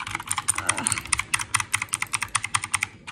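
Rapid computer keyboard typing during a shooter game, a steady run of sharp, close key clicks and clacks throughout with no voices.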